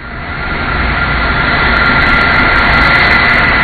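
A Boeing 747 Shuttle Carrier Aircraft carrying a 175,000-pound space shuttle on its back flies over at Kennedy Space Center, its jet roar swelling into a loud, steady, broad rumble that fills the whole moment without speech.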